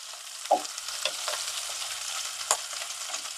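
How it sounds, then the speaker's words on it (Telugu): Onions frying and being stirred in a pan with a few cashew pieces while cooking methi matar pulao, a steady soft sizzle with a couple of sharp spatula scrapes, close and fairly quiet with no talking. "కొంచెం ఉల్లిపాయలు వేగాలి."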